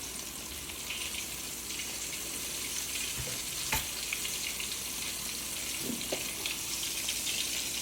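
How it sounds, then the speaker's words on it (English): Pork chops fry in a fryer with a steady, dense hiss of oil that carries on unbroken and fairly loud, punctuated by a couple of faint clicks and knocks. "And you can hear it frying, y'all."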